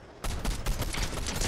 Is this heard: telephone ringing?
no